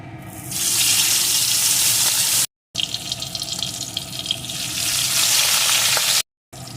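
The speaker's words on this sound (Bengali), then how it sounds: "এখন এর ভিতরে আমি লবণ হলুদ মাখানো মাছগুলোকে একে একে দিয়ে ভেজে নেব" Salt-and-turmeric-coated tangra fish pieces fry in hot mustard oil, giving a loud, close, continuous hissing sizzle that cuts out briefly twice.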